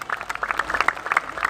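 A crowd at an outdoor religious gathering in Banten claps in a short burst of scattered, uneven hand claps, moderately loud and heard alone without talk over it.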